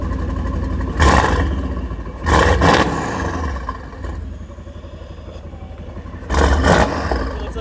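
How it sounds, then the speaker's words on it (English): BMW M2 fitted with carbon fibre parts, its turbocharged engine blipped in several sharp, loud revs with whooshing turbo sounds between them, separated by quieter idle stretches. "the turbo actually sounds so good too"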